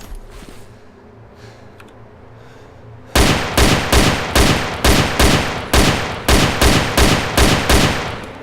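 Gunfire in the video game DayZ Overpoch: after about three seconds of quiet ambience, roughly a dozen loud, evenly spaced shots crack off in a rapid rhythm.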